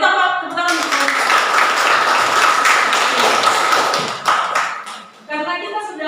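Students in a classroom clap for a group for about five seconds, a close, energetic patter of hands that stops abruptly, followed by a short tonal sound.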